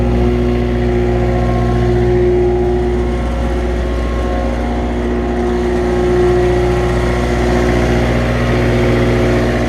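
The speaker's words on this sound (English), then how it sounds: "Rev up a bit, now it's warmed up a little bit." The engine of a Hayter LT324 triple gang mower, freshly cold-started and warming up, revs steadily at a loud, close, sustained pitch with a constant droning hum and no voices.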